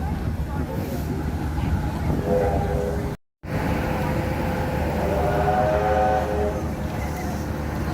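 A train idles and rumbles nearby at the Newport Workshops open day, with a sustained tonal hum, broken by a brief cut of silence, as faint voices murmur in the background.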